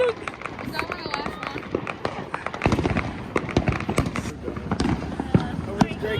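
Fireworks at an outdoor party crackle and pop in dense rapid bursts, some bangs sharp and close, while people talk and cheer over them.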